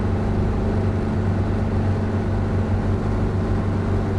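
Steady droning of the rear piston engine on a Cessna 337 twin in Microsoft Flight Simulator, a constant even hum with strong low tones that holds unchanged throughout, with no talking.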